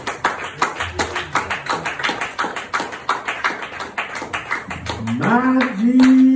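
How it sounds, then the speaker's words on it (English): A church congregation claps in praise during a gospel service, steady rhythmic hand claps from many people, then a sustained sung note rises over the clapping near the end. "give God another hand clap of praise."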